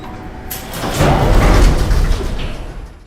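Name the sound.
elevator machinery creaking in the film Joker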